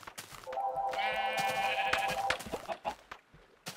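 A sheep bleats in the video game Minecraft. One drawn-out, wavering bleat lasts about two seconds, close and clear, followed by soft clicks and taps.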